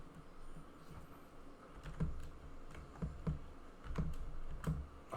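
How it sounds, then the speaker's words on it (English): Typing on a computer keyboard during a login, with steady clusters of key clicks in quick bursts, close and fairly clear over a faint room background. "for off-camera typing."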